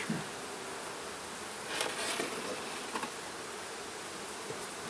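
Honeybees crowd the top box of a hive while building comb, a steady dense buzz close by that swells slightly midway, with a few louder individual bees passing near.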